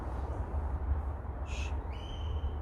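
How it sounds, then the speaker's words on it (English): A bird calls at night beneath a bridge: two short, thin, high-pitched calls, the second trailing into a steady whistle, faint over a constant low rumble of traffic or wind. "Oh, it's just a bird."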